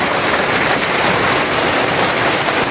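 Heavy rain pours steadily on a mountain trail near Calauan, Laguna, a loud, dense, unbroken hiss that stays even from start to finish.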